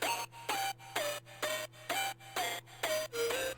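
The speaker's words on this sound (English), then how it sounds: "I put on an effector, and I got this lo-fi, which is like kind of a bit crush distortion" A lo-fi synth with bit-crush distortion plays a steady run of about eight short, buzzy, gritty notes, each dipping in pitch, over a constant low hum, alone and up close.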